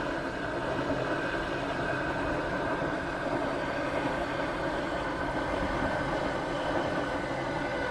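Train rolling along in the Roblox game Stepford County Railway on a Waterline service: a steady, broadband rumble and hum of a moving train, continuous and fairly even throughout, with no voices.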